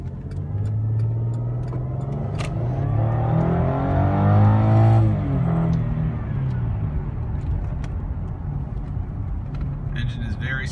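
A Cadillac STS engine hums steadily and swells as it revs up briefly before settling back to a smooth idle, close by.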